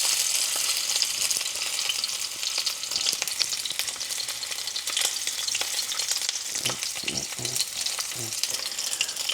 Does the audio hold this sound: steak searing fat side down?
yes